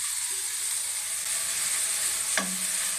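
Radish greens cooking in a pan for rasam give a steady broadband sizzle with soft stirring, and one short scrape partway through, with no voices.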